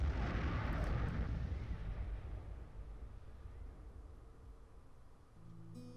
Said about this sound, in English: What just exploded?